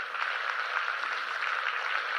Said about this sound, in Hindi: थोड़ा जोरदार ताली दीजिए उनके लिए